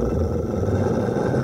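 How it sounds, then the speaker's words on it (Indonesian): Fierce, aggressive dog barking and growling played in a video game about sneaking away from a strict teacher, a continuous dense rumbling snarl at steady loudness with no talk. "Mainkan gonggongan galak."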